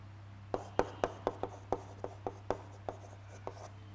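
Writing on a board during a biology lecture about the heart: a dozen crisp, evenly spaced taps and strokes over a steady low electrical hum, fairly quiet and close, with no talking.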